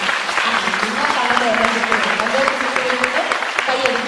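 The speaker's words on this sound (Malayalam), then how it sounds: "നന്നായിട്ടൊന്ന് കൈയടിച്ച് കൈയടിക്കാൻ" A congregation claps hands in dense, continuous applause at a religious gathering, with a voice speaking over the clapping.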